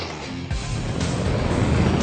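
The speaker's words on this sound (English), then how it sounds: "So the Audi's just mighty off the line." An Audi and a BMW launch side by side on a wet, greasy, leaf-strewn road, engines rising in a building roar as they accelerate hard off the line.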